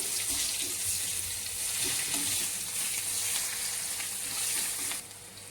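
Cloves, cinnamon, bay leaves and chopped onion fry in hot oil for a fish kalia, giving a steady, close sizzling hiss with small crackles until it drops away sharply near the end.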